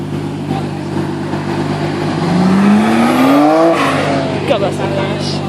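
A sports car engine revs up with a rising whine at a Preston supercar meet, climbing in pitch over steady crowd chatter and background noise before dropping away.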